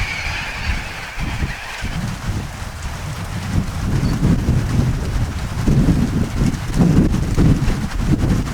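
Rolling thunder in a storm over Lake Illawarra, New South Wales, Australia: a deep, continuous low rumble that swells louder in the second half, mixed with rain and wind buffeting the microphone, with no talk.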